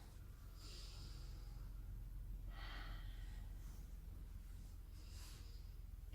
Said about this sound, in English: Strong breath here.